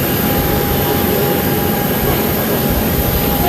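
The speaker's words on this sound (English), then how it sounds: "With the engine of the P-8A Poseidon roaring overhead, Flying Officer Ayah Khalid inspects the wea" A P-8A Poseidon military patrol aircraft roars overhead, its jet engine producing a loud, steady, broadband rumble and hiss that stays constant throughout with no voices.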